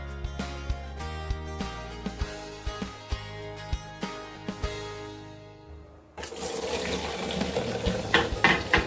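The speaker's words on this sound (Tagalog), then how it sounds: "i-drain po natin siya" Boiled spaghetti water pours out to drain, a loud rushing splash that starts suddenly after music with a regular beat and then runs on steadily.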